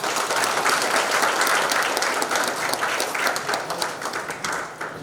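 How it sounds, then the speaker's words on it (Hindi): Loud, sustained audience applause for network marketing leaders at the launch event of Earnexa Network, a steady wash of many hands clapping that fills the whole stretch and tapers slightly at the end, with no talking over it. "तो एक बार जोरदार तालियां नेटवर्क"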